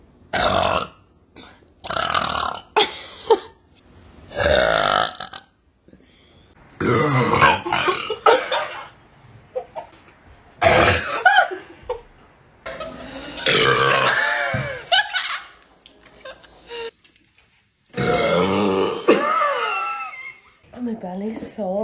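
A woman burps over and over, loud bursts of varying length with short gaps, some mixed with chuckles and groans.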